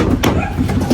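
Pigeons coo softly in a short, close burst, with faint fluttering as the birds take flight.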